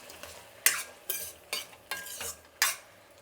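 Vangi bath masala with jaggery cooking in a pan, with five distinct stirring strokes at a steady rhythm, each giving a short scraping sizzle over a quiet background.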